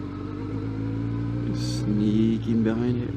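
A Kawasaki Ninja ZX12R motorcycle with a 1.2-liter engine and a new aftermarket exhaust. It idles with a steady, low, humming drone, with a brief light rev near the end and faint background sounds.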